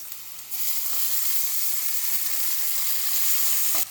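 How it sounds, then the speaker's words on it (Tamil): Tomato, ginger and garlic sauté in a pan for a paneer gravy, making a steady close hiss of frying that starts abruptly after a brief pause and cuts off near the end. "ஒரு தக்காளி, கொஞ்சம் இஞ்சி பூண்டு இது எல்லாத்தையும் தனியாக வதக்கிட்டு எடுத்து தனியாக ஆற வச்சிடலாம்."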